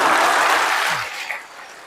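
Church congregation applauding during an evening of grace talk at a Korean Catholic parish in Virginia: dense broadband clapping that is loud at first, then fades and thins toward the end, with no talk over it.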